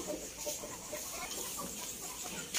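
Rhode Island Red chickens being fed give soft, short clucks scattered over a constant background hiss, faint and not far off.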